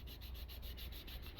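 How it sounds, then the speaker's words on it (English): Close, faint rhythmic scraping with a scraper on the wooden bridge of a classical guitar, quick repeated strokes about five times a second, with no voices. "Now let's work on cleaning off the bottom of the bridge with a scraper."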